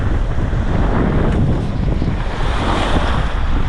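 Open-ocean waves wash steadily against a sailboat in the Gulf Stream, with constant wind buffeting the microphone in a loud, unbroken roar.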